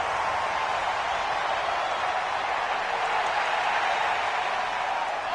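A stadium crowd in a console football game cheering and roaring as a big third down approaches, a broad, continuous wash of noise that stays loud and steady throughout.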